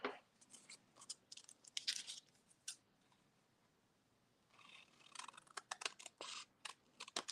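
Paper being cut with scissors at a craft table, a series of short crisp snipping and crunching strokes in irregular bursts, close and fairly quiet, with a pause in the middle.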